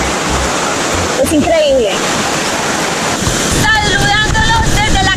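Steady broadband rush of mountain creek water at Quebrada Las Perdices in Guayabetal, Cundinamarca, roaring close and continuous with wind buffeting the microphone, while a person speaks briefly over it.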